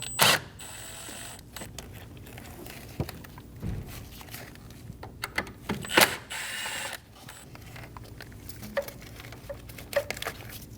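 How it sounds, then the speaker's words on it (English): A ratchet with a T25 bit removes the coolant reservoir screws on a 2012-2022 Volkswagen Passat 2.5L, with quick ratcheting clicks, small taps and clunks in irregular bursts, close and fairly quiet, with no talking. "Using a T25 bit, remove the 2 screws for the coolant reservoir."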